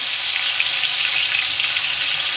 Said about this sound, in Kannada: ಕ್ಯಾಪ್ಸಿಕಮ್ ಹಾಕೊಂಡು ಕ್ಲೀನಾಗಿ ಫ್ರೈ ಮಾಡ್ಕೋಬೇಕು